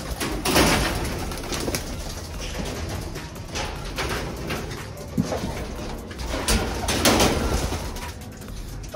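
Racing pigeons coo and shuffle nearby, with soft rustling and occasional knocks and wing flutters in an enclosed loft.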